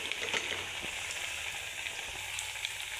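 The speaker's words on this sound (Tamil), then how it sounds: "இப்போ எண்ணெயில் போடுறேன்." KFC-style coated chicken fries in hot oil, giving a steady close crackling sizzle with scattered pops and no voices over it.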